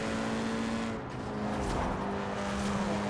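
A VW Golf driven along country roads in Forza Horizon 4, its engine droning steadily with a brief dip and tire noise, loud and continuous with no talk.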